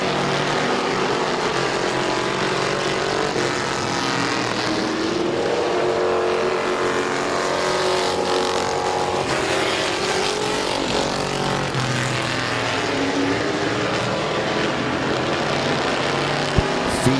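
Race cars roar around the dirt oval at Midvale Speedway in a close late-race battle for the lead, a dense continuous engine drone that rises and falls steadily as the pack circles, loud and unbroken throughout.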